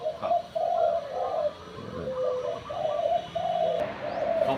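A small bird sings a repeated, bright warbling phrase in short bursts, fairly close, with steady background hiss and no talking.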